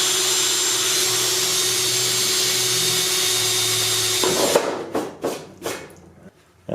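A power drill bores through an aircraft elevator control surface with a steady high whine for several seconds, then stops and gives way to a few short handling clatters and bumps nearby.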